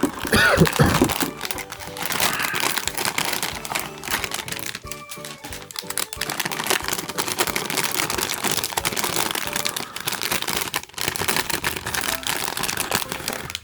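A plastic bag crinkles and crackles while an assembled HG Amazing Red Warrior model kit figure is unboxed, close up, in a long run of irregular rustles and crisp snaps.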